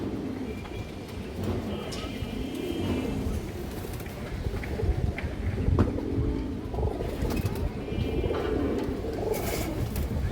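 Pigeons coo in a Bengali pigeon market among high-flyer birds, with soft low coos repeating over steady ambient noise and clatter throughout.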